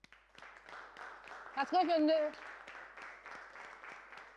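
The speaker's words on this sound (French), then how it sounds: "Nous allons nous applaudir. Moi je vais vous applaudir." Assembly applauding with steady, moderate clapping throughout, briefly overlaid by a loud spoken voice in the middle.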